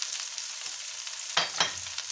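Swedish meatballs with a spoonful of flour frying in butter in a pan, a steady close sizzle with two sharper scraping stirs near the end, no voices.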